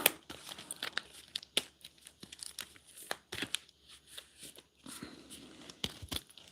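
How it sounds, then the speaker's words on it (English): A deck of cards is shuffled by hand, giving a close run of crisp, irregular flicking and riffling bursts with brief pauses between them. "Maybe I should shuffle it a little bit."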